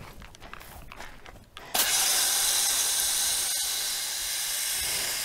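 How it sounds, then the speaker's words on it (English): A hose-end sprayer attached to a garden hose sprays nematode solution onto plants, a steady loud hiss that bursts in suddenly after a few quiet rustles and continues evenly. "Now that I've got this attached to the hose, I'm going to start spraying"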